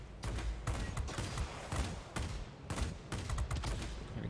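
Heavy cannons on an XP-58 aircraft in World of Warplanes fire in rapid bursts, four or five dense volleys of thudding shots separated by short gaps.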